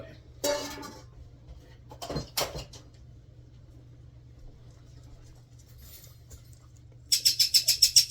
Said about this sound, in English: my bird is talking